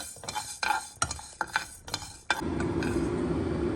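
Rice roasting in a pan with a spoon for sunnundalu, a run of sharp scraping and clinking stirring strokes against the pan, then a steady hiss of the grains toasting.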